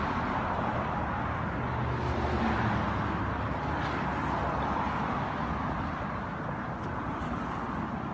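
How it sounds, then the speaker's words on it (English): Steady roadside traffic roar of cars passing continuously along a highway, loud and broadband throughout with no gaps, heard while walking near the road close to a state line. "I know it's pretty noisy with all the cars."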